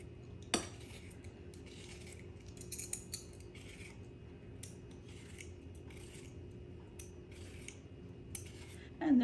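A knife trims the ends off a cucumber and a peeler scrapes along its skin, producing faint, close scraping strokes and a sharp click over a low, steady hum.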